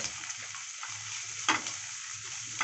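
An onion mixture for drumstick kara kuzhambu sautés in a pan, a steady bright sizzle broken by occasional scraping stirs, close and constant throughout.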